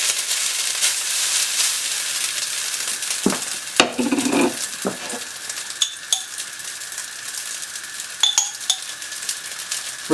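Noodles sizzle on a hot griddle for Hiroshima-style okonomiyaki, a steady frying hiss broken by a few clanks and scrapes of a metal spatula and utensils, with no one speaking.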